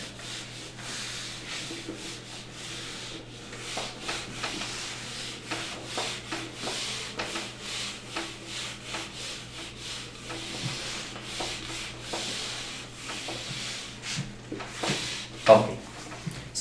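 Writing is rubbed off a board during a lecture on solving difference equations, giving repeated soft scrubbing strokes up close with a brief louder knock near the end, under a steady low hum.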